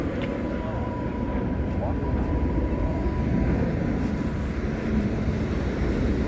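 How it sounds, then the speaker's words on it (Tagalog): Large airplane passing overhead near a parking area in Burlingame, a steady broad roar rumbling loudly and continuously throughout. "Laki ng eroplano. Tingnan mo, laki-laki ng eroplano."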